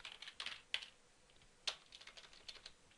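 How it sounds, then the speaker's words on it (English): A computer keyboard clicks as a password is typed, with a quick, uneven run of soft keystrokes and a few sharper taps, close and quiet. "See if I can type my password right."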